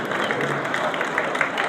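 Crowd cheering and applause at a British sidecar speedway championship final at Belle Vue, a steady broad roar from the stands throughout, fairly loud and continuous with no distinct voices.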